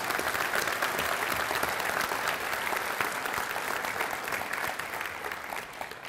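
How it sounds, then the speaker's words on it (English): An audience at a university hall of fame induction ceremony applauds in a dense, steady round of clapping that carries evenly throughout and eases slightly toward the end. "Please join me in a round of applause for them"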